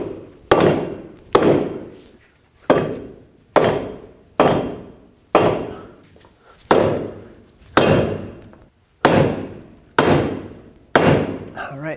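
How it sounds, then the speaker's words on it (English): Rubber mallet blows tapping a front control arm into place on a 2007-2009 Saturn Aura, about a dozen sharp, loud knocks at a steady, unhurried pace, each with a short decaying ring, close by with no talking. "Grab a rubber mallet and tap it up"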